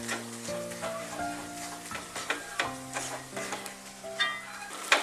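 Chili powder stirred into a mixture frying in a pan, giving a soft steady sizzle with light scraping taps of the spoon, close and low in level under a sustained tonal background.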